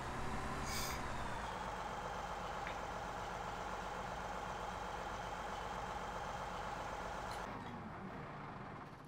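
A truck engine idles steadily in the Farming Simulator 2017 game on the Dusty Cove map, a constant low drone with a brief hiss near the start and the engine cutting off just before the end.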